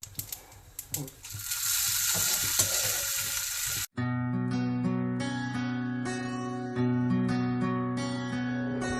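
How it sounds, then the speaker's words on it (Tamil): Tempering spices for vazhaithandu pachadi sizzle and crackle in hot oil, a dense steady frying hiss that turns to busy popping and rattling halfway through, close and loud. "இப்போ தாளிப்பு சேர்க்கலாம்"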